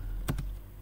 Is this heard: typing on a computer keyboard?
yes